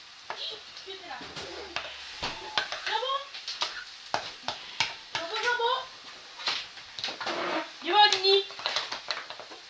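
Cream and cheese being stirred together for homemade nachos in a family kitchen, with repeated scraping and clicking strokes under lively nearby conversation, including a voice.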